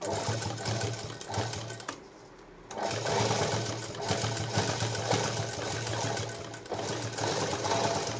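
A sewing machine stitches a blouse made from saree fabric, running with a close, steady whirring hum that pauses briefly and then resumes for several seconds.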